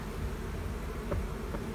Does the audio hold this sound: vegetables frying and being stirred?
no